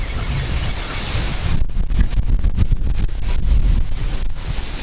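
Strong wind blows outdoors beside a campfire with jaffles toasting in the coals, a loud, steady roaring rush buffeting the microphone for the whole stretch with no voices.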